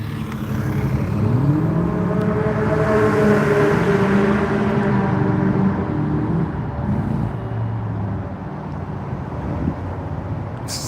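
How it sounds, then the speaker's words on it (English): A Ford GT40 with a big V8 running rough at a car gathering, giving a steady loud rumbling idle with wavering engine tones that rise and fall unevenly, heard close amid outdoor noise. "This guy's clearly having issues with the GT40."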